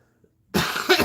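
After a moment of near silence, a person coughs close by: a short harsh burst followed by a second rougher cough, with a throaty, congested quality.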